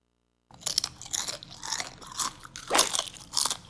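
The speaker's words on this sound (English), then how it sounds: "Did you just crunch chips during his backswing?" Crunching of chips being eaten close by, a run of crisp bites and chews at irregular intervals, quiet in front of a golf video game.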